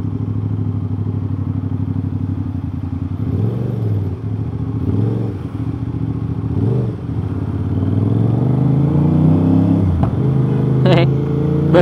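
An Aprilia RS660 two-cylinder, 270-degree engine with an aftermarket exhaust rumbles at idle with a deep throaty note, swelling in a few short throttle blips, close by.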